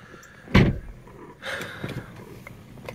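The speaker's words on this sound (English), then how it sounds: "When you close the door" Closing the door of a BMW 428i coupe gives one solid, close thump, followed about a second later by quieter mechanical whirring and clicks.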